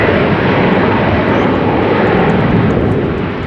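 An airliner takes off from Amsterdam Schiphol Airport in wet, windy weather, its engines a loud, steady, close roar that fills the whole stretch without a break and with no voices.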